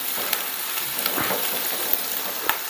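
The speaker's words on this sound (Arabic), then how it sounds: "نحمس المكونات" Garlic and onion sautéing in oil for a shrimp stew, a steady, dense sizzle with a few faint utensil clicks, close and fairly loud.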